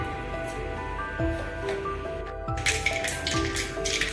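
Rapid irregular crackling and popping of mustard seeds spluttering in hot sesame oil, with sharp pops growing denser toward the end over a steady background hum.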